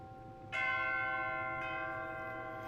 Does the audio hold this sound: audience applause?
no